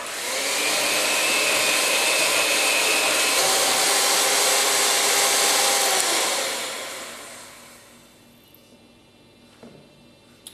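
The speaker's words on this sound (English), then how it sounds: "I'm going to basically beat it with an electric mixer until it's nice and smooth." An electric hand mixer whirs steadily while beating a cup of shortening for gluten- and dairy-free hamantaschen dough, a loud continuous motor drone with a faint whine that runs for about six seconds, then cuts off, leaving quiet room tone.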